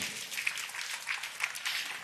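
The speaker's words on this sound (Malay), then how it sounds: "Berikan tepukan kepada Cikgu Karmin." A short stretch of soft, fairly distant audience clapping at a literary gathering, brief and even in level.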